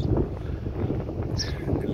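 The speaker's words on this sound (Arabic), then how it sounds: "اللي فيها هوا جامد اوي زي ما انتوا شايفين" Steady, blustery wind buffets the microphone with a constant low rumble, with a few brief brighter hisses breaking through near the end.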